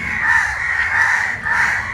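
Three harsh caws repeat at an even pace, crows calling loudly over a steady background.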